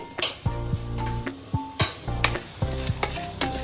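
Green gram dry-roasts in a pan, stirred with rhythmic scraping strokes that each carry a brief squeaky, tonal grind, repeating close and clear with no voices.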